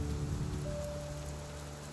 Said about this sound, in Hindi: यह बर्फीली ठंडक लिए हुए मूसलाधार बारिश थी, जो सर्दियों में कभी कभी पड़ती है।